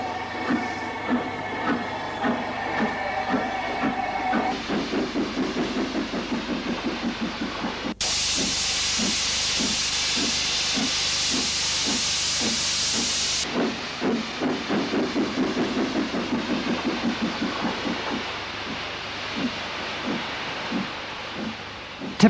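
Steam locomotive City of Salford, a Pacific, pulls out of a station on a run to Glasgow, its loud, rhythmic exhaust beats coming close and steady, with long bursts of hissing steam in between.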